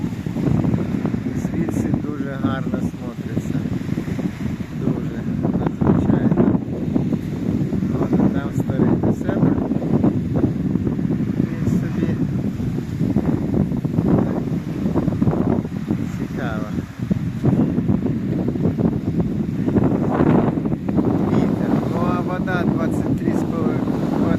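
Strong wind buffets the microphone on the seashore at St. Vlas, Bulgaria, a continuous low rumble with a person talking over it throughout.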